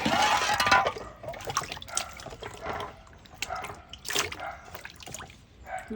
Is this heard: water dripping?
yes